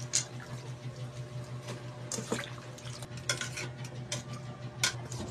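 A utensil scrapes and clinks against a pot as white squash sautés for a nukos (squid) dish, with a steady low hum and scattered metallic taps over the cooking.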